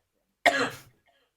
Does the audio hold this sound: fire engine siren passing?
no